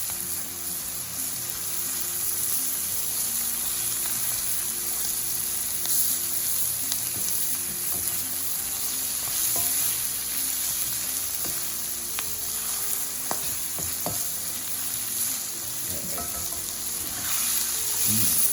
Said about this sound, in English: because this is a home wok situation and not like a professional, which is not into focus, I want to kind of sear it